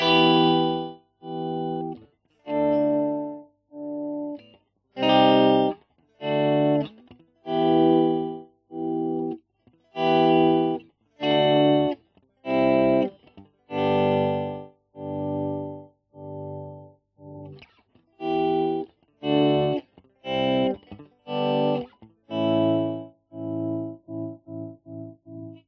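Guitar notes played through a MadeByMike Saltshaker tremolo pedal set for volume swells, each note fading in softly and rising to full level, in a steady series of swelled chords and single notes with no talk.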